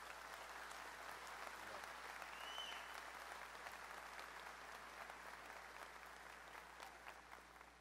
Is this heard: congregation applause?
yes